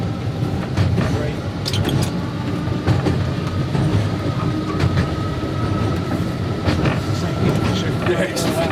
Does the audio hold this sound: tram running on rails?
yes